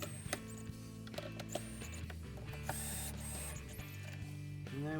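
Screws are tightened back in on a Gotway MSuper v3 electric unicycle, giving a run of small clicking, ratcheting taps and whirring tool turns close up, with no talk.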